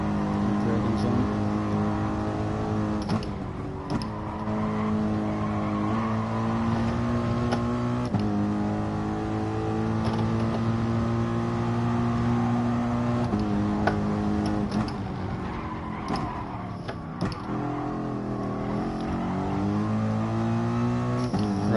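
Racing car engine during track practice, a steady continuous drone with shifting harmonic pitches as the revs rise and fall, held at a loud even level throughout, with talk faintly mixed in.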